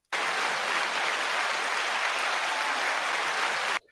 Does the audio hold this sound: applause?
yes